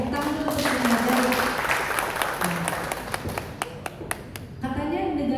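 A crowd claps warmly for the Sukmajaya district at a community legal event in Depok, West Java, producing several seconds of steady, fairly close applause between bits of a man's speech.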